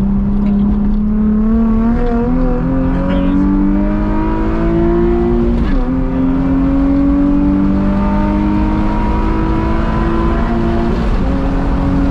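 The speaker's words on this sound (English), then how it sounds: "Jordan gets a full acceleration onto the interstate" A Nissan 350Z with a bolt-in hydraulic handbrake pulls hard onto an interstate, its engine droning loud and steady as it climbs through the revs, with brief gear-change dips and no talk over it.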